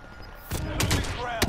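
Gunfire in the video game Warzone, several loud, sharp reports in quick bursts with a final crack near the end, over a steady background hum.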